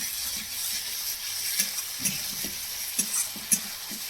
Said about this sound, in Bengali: এখন বন্ধুরা ভালো করে কষিয়ে নিচ্ছে টমেটো আর এই আদা জিরে বাটা আর লঙ্কা আছে